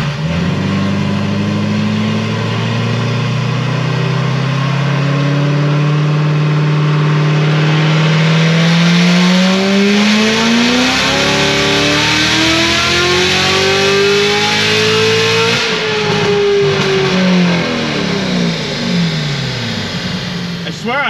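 A Chevrolet Corvette C7 Z06 with a Magnuson supercharger accelerates hard, its engine note climbing steadily for about fifteen seconds in a loud, close, sustained roar before easing off near the end.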